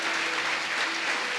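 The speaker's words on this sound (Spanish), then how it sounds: "Vamos, aplauda al Señor." A church congregation claps together in a dense, steady burst of applause that fills the room, with no speech over it.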